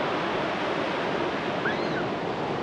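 Steady ocean surf at Rushikonda Beach in Visakhapatnam, a continuous broadband wash of breaking waves with some wind, alone with no talk.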